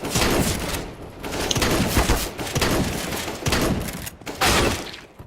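Shotgun fire in a Counter-Strike: Global Offensive bot deathmatch comes as a dense, continuous barrage of game gunfire with repeated heavy blasts and thuds, loud and close throughout, with no clear speech.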